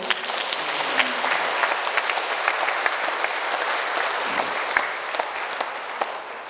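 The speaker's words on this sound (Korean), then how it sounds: "유연수 마태오 선생님께 뜨거운 박수로" An audience at a church education lecture gives the lecturer a warm, steady round of applause, many hands clapping at a moderate distance throughout.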